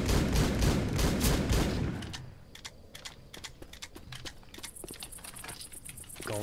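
A combat shotgun fires in Left 4 Dead 2, with loud rapid blasts at first that give way to quieter scattered shots and clicks.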